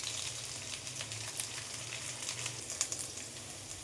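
Potatoes frying in oil for a Bengali boku fish curry with potato and brinjal, a steady faint sizzle with soft intermittent scrapes of stirring throughout.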